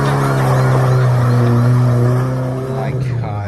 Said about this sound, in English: He modded his muffler enough to make it actually really freaking loud too.